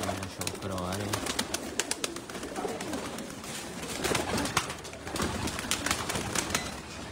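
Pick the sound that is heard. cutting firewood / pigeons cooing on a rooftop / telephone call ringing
pigeons cooing on a rooftop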